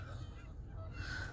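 Canada geese honk in a park, a faint scattered chorus of short nasal calls over low background rumble, with no talk.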